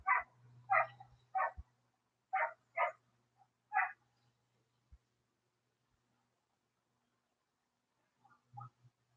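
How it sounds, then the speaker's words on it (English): A dog barks six times in quick bursts, fairly near, then falls silent before two softer barks at the end. "That poor doggy. It just keeps barking and barking."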